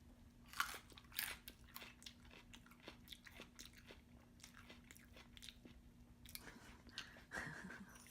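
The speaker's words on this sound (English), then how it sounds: "I'm gonna grab one of these peppers first and munch on it" Crisp biting and crunching of a pickled serrano pepper, close and fairly quiet, in a run of sharp bites and chews over about eight seconds with no talking and a faint steady hum beneath.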